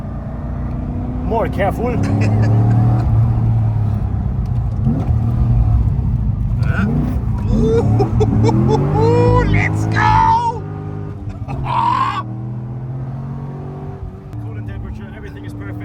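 Corvette C6 Z06 V8 engine droning and revving on a wet road, a steady close rumble with rising and falling rev sweeps, heard from inside the car beneath someone talking.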